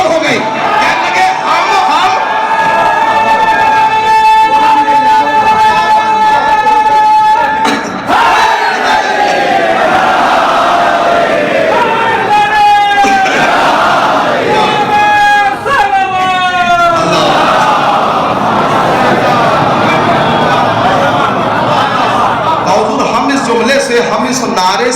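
Congregation at a Shia majlis mourning gathering chants a slogan in loud unison, repeated rhythmic shouted phrases from a large crowd rising and falling over about twenty-five seconds.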